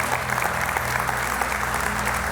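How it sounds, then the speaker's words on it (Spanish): Church congregation applauding loudly and steadily throughout, a dense continuous clapping from a crowd of worshippers. "Dale ese fuerte aplauso a Dios."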